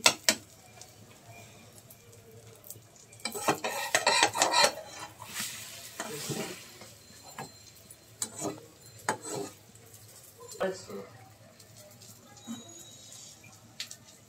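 Eggs for a shahi omelette are turned over in a frying pan, giving a run of scraping, clattering spatula strokes and soft sizzling, loudest in a brief burst midway, with quieter scrapes and taps after.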